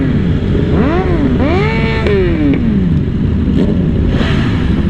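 Several motorcycles rev hard at a large group charity ride, engine pitch sweeping up and down in repeated close, loud bursts over a constant rumble of idling bikes.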